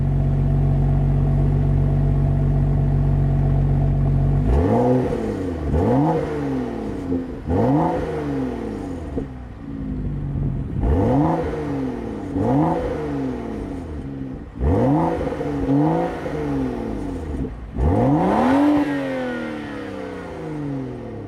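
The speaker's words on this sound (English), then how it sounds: "You can hear the burbles because BMW doesn't really do pops or anything like that." A 2013 BMW 335i engine with an aftermarket exhaust revs hard again and again in repeated bursts, each climb falling away into a low, rumbling exhaust burble, loud and close with no talking.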